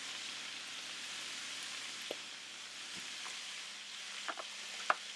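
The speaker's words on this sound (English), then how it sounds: "we're going to just lightly sprinkle that across the top of our ground beef mixture" Ground beef mixture for shepherd's pie sizzling softly in a pan as flour is sprinkled over the top; a faint, even frying hiss with a few small taps near the end, no talking.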